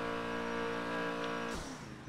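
A video game car engine revs hard and steady during a burnout, a dense roaring drone, then pitch drops sharply near the end as the engine note shifts.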